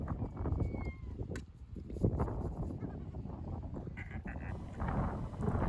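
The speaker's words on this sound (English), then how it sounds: "The seagulls were laughing at me as I was painting." Seagulls calling with laughing cries at an outdoor painting spot, several overlapping squawks fairly close and steady throughout, with some background noise.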